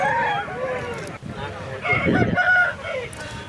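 A pedigree rooster at a rooster market crows once loudly and close, a rising then sustained call amid market chatter and other background voices.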